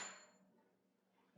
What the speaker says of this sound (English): Let's throw on this extra washer